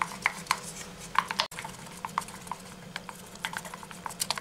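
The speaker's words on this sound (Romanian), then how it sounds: "Amestecăm grișul să obținem o pastă omogenă." Semolina being stirred with tea into a smooth paste for a face mask, with light, irregular spoon taps and scrapes against a bowl, close and fairly quiet.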